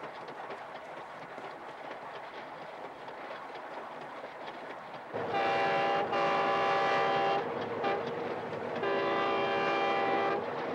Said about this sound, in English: here I am on a train